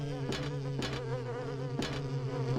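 Bee-like enemies in the video game Silent Hill 4 give off a steady, droning insect buzz with a rich harmonic tone, punctuated by a few short, sharper bursts, with no voices.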